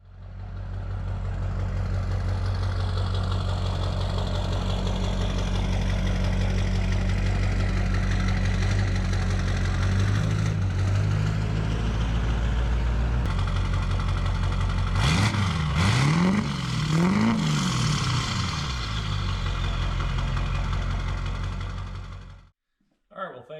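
Low-mile LB7 Duramax diesel truck with a 4-inch straight pipe, idling with a deep, loud, continuous exhaust rumble. Later come a few sharp revs that rise and fall before the engine shuts off near the end.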